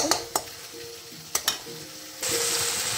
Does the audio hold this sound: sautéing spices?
yes